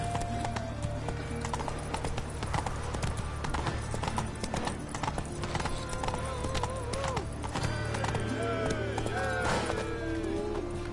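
Horse hooves clip-clop at a steady trot through a dense game soundscape from The Witcher 3, with an occasional whinny, background music and voices layered over the continuous rhythm.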